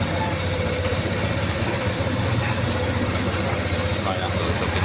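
Honda PCX 160 scooter engine idling after its water pump assembly was replaced, a steady low rumbling hum close by, with a person talking over it.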